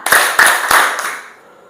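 A group of people claps in a short sequence of sharp, close hand claps in quick bursts of one, two and three, fading into a brief reverberant tail.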